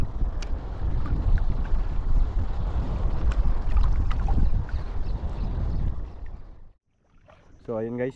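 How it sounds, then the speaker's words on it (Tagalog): Strong wind by the sea on a rough-water shore casting spot, blowing as a loud continuous rumble with gusts, then dropping out abruptly near the end before a brief voice is heard. "malakas na yung hangin"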